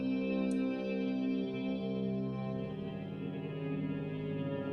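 Dense, sustained synth drone pad run through a 4x10 bass cabinet modeler that adds gritty digital distortion, with a thick layered harmonic texture, chorus-like shimmer and reverb, steady and loud throughout with no voices.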